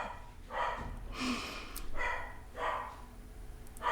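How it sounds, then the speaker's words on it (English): A backyard dog fires off several gruff barks at squirrels in a slow, uneven series, sounding a little distant, with breathy snorts between them and no talk. "My dog's barking now."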